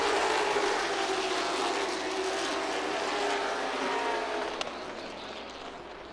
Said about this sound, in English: Battle for 2nd rages on. Moore to the high side. Ricky now getting by him